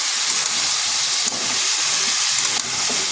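Cut pumpkin hisses and sizzles in hot spiced oil in a kadai, a loud, continuous frying roar broken by two brief dips as the pieces are stirred.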